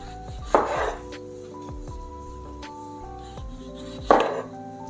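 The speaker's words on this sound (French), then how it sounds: "On vient couper le haut de celle-ci." A knife chops through tomatoes on a board in a home kitchen, with two sharp, close cuts about four seconds apart over a steady low background hum.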